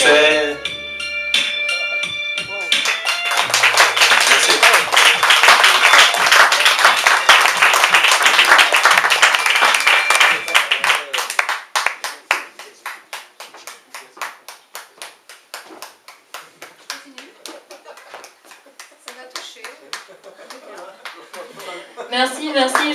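An audience at the Espace Léo Ferré concert venue bursts into loud, full applause that thins out partway through into scattered individual claps, with a few voices and laughs mixed in.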